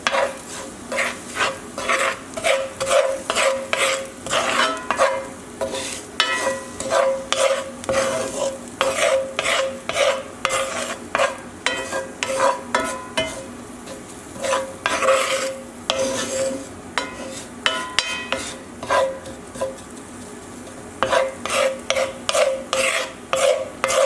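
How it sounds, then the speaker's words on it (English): Breadcrumbs being stirred in a hot pan, with a fast, continuous run of scraping, rasping strokes over a light sizzle, close up, with short pauses between bursts and no talk. "Take your breadcrumbs, put it in. We're going to mix this together."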